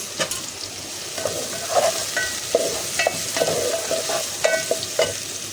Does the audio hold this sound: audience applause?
no